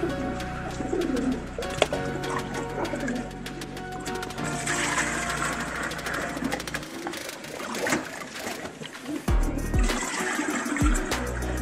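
Pigeons in a loft coo softly alongside fluttering and water being poured, a busy mix of close bird calls and splashing with intermittent bumps and handling noises.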